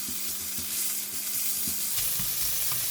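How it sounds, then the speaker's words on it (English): Meat and ginger fry steadily in a hot pan, a dense continuous sizzle with soft stirring scrapes, close and loud with no talking. "I'm going to cook the meat first."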